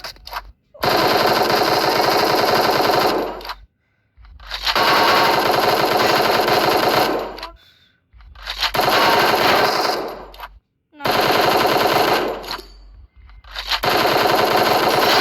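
Gunfire in the mobile video game Free Fire: four long, loud bursts of rapid automatic fire, each lasting a few seconds and separated by short silent gaps, no voices.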